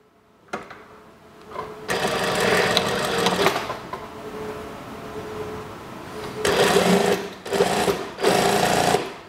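A sewing machine stitches a fabric seam on a kimono-style daster dress, running in several whirring bursts of a few seconds each, separated by short pauses, close and clear.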